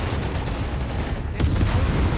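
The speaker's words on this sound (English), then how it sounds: "Sturm running some covering fire here." Covering gunfire from Sturm troops in the WWII strategy game Company of Heroes 3, a continuous dense rattle of shots with a slightly heavier burst partway through.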